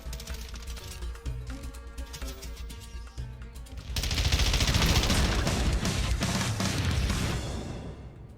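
M13B automatic rifle firing at bots in Call of Duty DMZ: crisp rapid bursts over game music, giving way around four seconds in to a dense, loud sustained spray of gunfire with clattering impacts.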